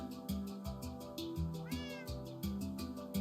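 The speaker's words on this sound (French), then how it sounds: "Bah oui, j'ai un petit chat, regarde." Cat meowing in the video game Minecraft, repeated short mews over a looping, bouncy game music track, close and clear.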